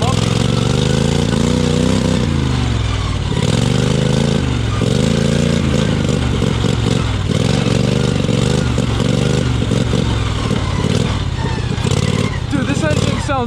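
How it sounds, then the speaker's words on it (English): A homemade race lawn mower engine runs while the machine rides over a bumpy trail, a loud, steady mid-pitched drone with shifting revs and rattling clatter, close up throughout. "this engine sounds so much better than that freaking intake and the Gasman"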